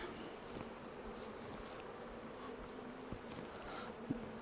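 Honeybees in a newly split, freshly opened hive give off a steady, close droning buzz that holds evenly throughout, with a few faint clicks and brief bumps rising above the hum.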